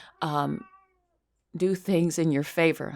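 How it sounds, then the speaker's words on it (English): A house cat meows indoors, one short, clear cry near the microphone before a pause, followed by a person talking. "That's my cat, by the way."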